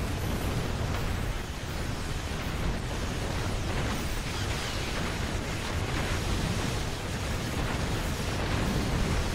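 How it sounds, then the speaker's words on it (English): Dense, continuous roaring explosions from a space battle against Klingons in the video game Star Trek Online, a loud unbroken wall of blasts and rumble with no pauses. "All I hear are explosions."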